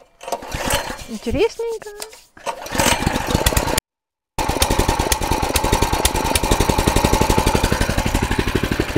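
A small engine on a Soviet-era motorized cart at a dacha starts and runs in first gear, a fast steady close chugging after an earlier burst of revving, with a brief pause in between and a voice speaking over it early on.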